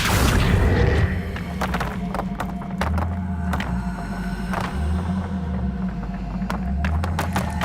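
A Confringo blasting spell goes off in Hogwarts Legacy, a loud broadband burst at the start, then scattered sharp impacts and thuds over a steady low droning game background.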